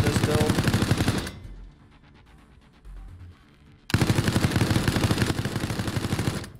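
Rapid automatic weapon fire in the video game Resident Evil Resistance, loud dense bursts of shots, a burst, a pause with softer game noise, then another long sustained burst.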